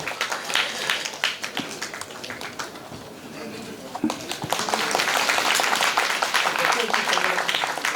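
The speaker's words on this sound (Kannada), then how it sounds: "ಮತ್ತೊಮ್ಮೆ ನೀವೆಲ್ಲರ ಜೋರು ಚಪ್ಪಾಳೆ ಮೂಲಕ" Audience applause at a public welcome event for a returning award-winning writer, steady scattered clapping that swells louder in the second half, with voices talking over it.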